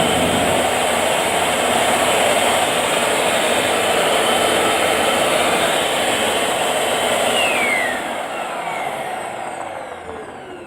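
A Eureka Airspeed Unlimited Rewind upright vacuum runs on carpet, its spinning brushroll making a steady, loud broadband whir that holds evenly and then eases slightly lower near the end.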